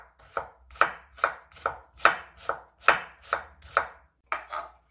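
A knife julienning half a large carrot into thin strips on a cutting board: about a dozen crisp, evenly spaced chopping strokes close by, with no talking.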